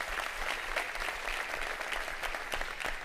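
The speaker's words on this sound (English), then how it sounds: "Let's give everybody a big round of applause." An audience at a Harris County State of the County address claps steadily, a dense, even round of applause from a crowd that holds for the whole few seconds.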